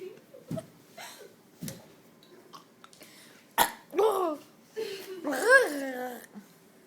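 A child's burp amid short coughs and throat noises, several brief bursts spread through the clip, with a longer voiced burp near the end, close and fairly quiet.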